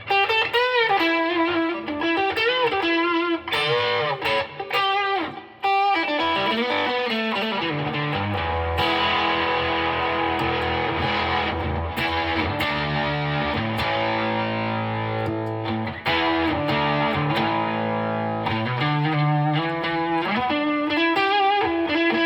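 An electric guitar plays through a fuzz pedal with a compressor engaged, giving a thick, distorted, sustained tone with chord and single-note phrases, loud and close, alone without talk.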